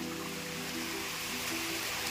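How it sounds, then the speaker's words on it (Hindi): Water falling from above at Dudhnath Pahad near Dhubri makes a steady, close broadband rush, like a small waterfall or pouring runoff, continuous and uniform with no voices. "उधर से भी गाइस पानी गिर रहा है नीचे"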